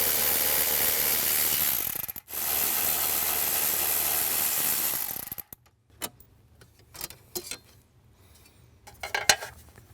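A ratchet removes 8mm bolts from a panel inside a Bronco, first as a loud sustained rapid clicking, then as scattered softer clicks and handling knocks.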